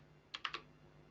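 A computer keyboard pressed three times in quick succession, the last stroke being Enter, close and crisp against a quiet room hum while Python code is typed.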